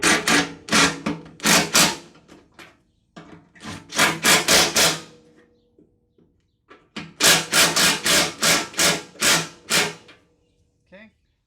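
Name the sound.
tightening skid shoe bolts on a snowblower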